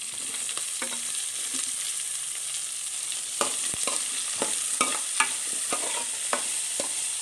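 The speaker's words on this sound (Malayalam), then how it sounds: "അന്നേരം അതിലോട്ട് എടുത്ത് വച്ചിരിക്കുന്ന സവാള ഇട്ട് കൊടുക്കുക സവാളയും കൂടെ തന്നെ പച്ചമുളകും കൂടെ ഇട്ട് കൊടുക്കുക" Onion and green chillies frying with ginger, garlic and coconut for kadala curry: an even background sizzle broken by repeated sharp scrapes and taps of a spoon stirring the pan, close and steady, with no speech.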